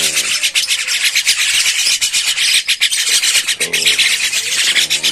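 Javan myna, the jalak kebo, giving continuous harsh, rasping calls and chatter that sound close and loud, with busy scratchy bursts running throughout and no talk.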